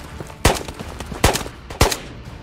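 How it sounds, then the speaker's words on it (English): Three sharp, evenly spaced gunshots in the video game Ghosts of Tabor, each a loud crack ringing out over quiet background noise. "I hear shots at the lighthouse."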